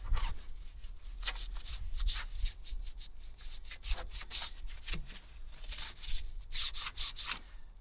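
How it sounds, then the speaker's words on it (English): A brush scrubs campervan tyres in close, loud, continuous rhythmic strokes, the bristles rasping back and forth against the rubber with no talk over it. "we'll give the tyres a bit of a scrub up too"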